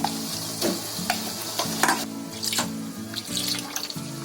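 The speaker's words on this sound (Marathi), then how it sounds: "हे आपलं याच्यामध्ये पाणी टाकले" Water pours into a pan of marinated chicken curry with tomato and onion, a close, continuous splashing gush with a few stirring knocks.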